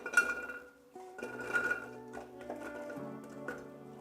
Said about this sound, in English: We're gonna start by adding our potatoes here.